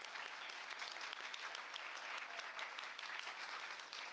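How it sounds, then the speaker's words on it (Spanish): An audience at a panel discussion on feminist foreign policy applauds the moderator, a steady, even wash of many hands clapping throughout with no break. "a la que les pido un aplauso"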